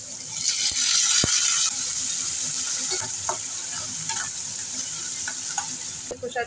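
Dried red chillies and black cumin seeds hit hot oil in a pan for tempering, bursting into a loud, steady sizzle with a few stirring clinks and scrapes, close and continuous, with no talking.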